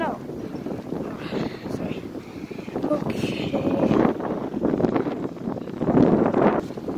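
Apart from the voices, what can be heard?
strong wind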